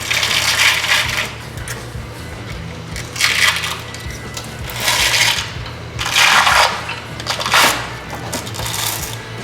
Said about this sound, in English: Oh, the Velcro is strong with this one.